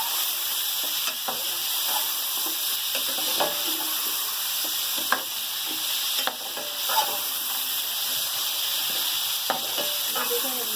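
Meat pieces with nalli marrow bones fry in a pot for nalli maghaz nihari, giving a steady close sizzle with intermittent stirring clatter and scrapes, no talk.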